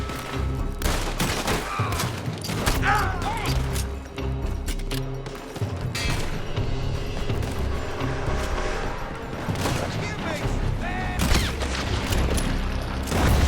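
Dense, continuous gunfire from a shootout in the Red Dead Redemption 2 video game, overlapping rifle and pistol shots cracking in rapid succession with booming impacts, loud and sustained throughout.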